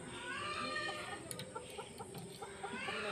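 Several chickens cluck softly and steadily in a coop in the evening, short calls scattered over a low background hum with no talk.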